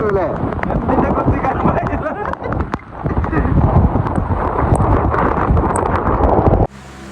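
Strong, gusty wind roars and buffets the microphone steadily on a beach, with voices faintly underneath, then abruptly drops at the end.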